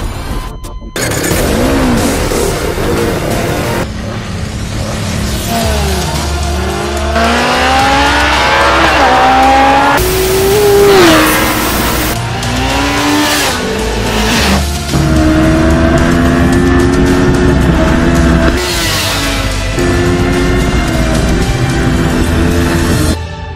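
A motorbike engine revs hard and accelerates repeatedly, loud and close, with rising and falling pitch sweeps and brief gaps between pulls.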